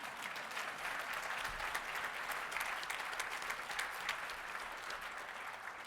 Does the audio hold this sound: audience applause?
yes